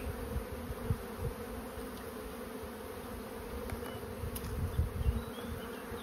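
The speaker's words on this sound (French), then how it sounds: "Ce sont les abeilles qui sortent chaque jour, la nouvelle génération" A dense, steady buzz of many honeybees swarming near a hive as the new generation emerges, constant and close, with no voices.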